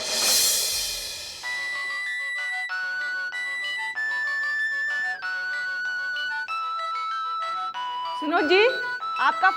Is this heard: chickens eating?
no